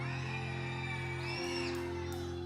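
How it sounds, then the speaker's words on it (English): A church congregation screams together at full volume, a dense, sustained roar of many voices that holds loud for the whole stretch. "let's lift our voice one more time with the loudest scream for Jesus that we could possibly do in this place"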